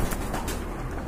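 Jacobin pigeons cooing close by in a short, soft burst of low throaty coos, alone without talk.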